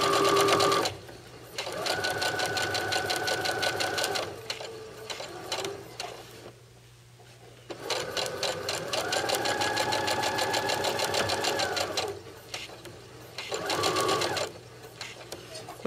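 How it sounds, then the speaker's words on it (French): A sewing machine runs in long steady bursts while stitching a finishing border on fabric, with a brief pause near the middle and a short final run; someone speaks quietly over the motor hum. "on soulève le pied pour s'assurer qu'il n'y ait pas de faux plis et on continue de coudre"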